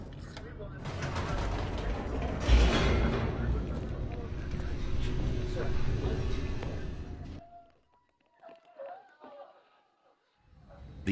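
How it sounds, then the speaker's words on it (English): A descending elevator in The Stanley Parable: a steady mechanical rumble and whir with rattling and clanking continues for several seconds, then cuts off abruptly into near silence broken by a few faint knocks. "The elevator raced downward, plummeting towards an unknown fate."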